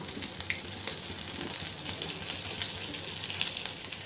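Potato pettice tikki frying in a pan gives off a steady, faint sizzle and crackle of hot oil, continuous with no talk.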